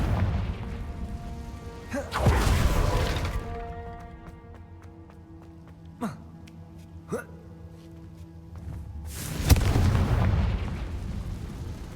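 A Confringo fire spell in the video game Hogwarts Legacy bursts with a loud booming blast, followed by a few sharp cracks and another heavy explosive surge, all without speech over a low ambient game background.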